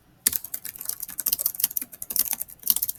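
Rapid typing on a computer keyboard, a continuous close run of crisp key clicks with uneven rhythm and occasional heavier strokes, with no voices.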